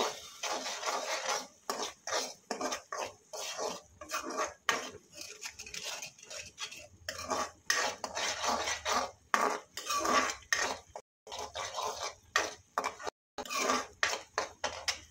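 Spices with garam masala, chilli, coriander powder and turmeric being fried for beans masala, heard as repeated close scraping and clinking of a spoon against a pan in irregular bursts, without sizzle, over quiet background.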